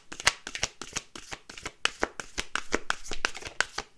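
Playing cards being shuffled and dealt by hand during a tarot-style card reading, a series of crisp, close snapping riffles and flicks in quick irregular bursts, quiet overall with no talking.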